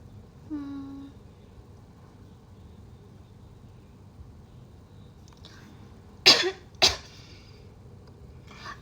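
A person coughing twice in quick succession, short sharp bursts near the microphone in a quiet room during a live stream, preceded by a brief faint vocal sound.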